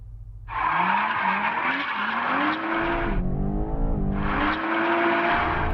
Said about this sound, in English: Doing the launch again with the car in two-wheel drive mode, like old M cars.